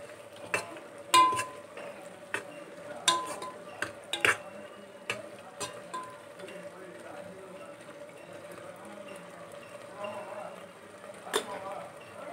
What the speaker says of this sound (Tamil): இதையும் சேர்த்து நம்ம நல்லா கலந்து விட்டுடலாம்